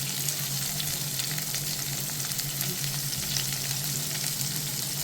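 Onions, shallots, ginger, garlic and green chilli frying in oil, giving a steady, close sizzle throughout with occasional stirring and no talk.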